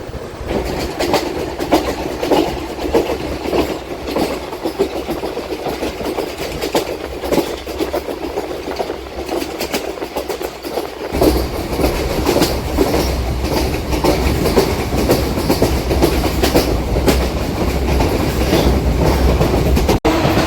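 A DEMU passenger train rolls along the rails between Secunderabad and Siddipet, a loud continuous rumble with rhythmic clickety-clack that grows heavier partway through, heard from inside without talking.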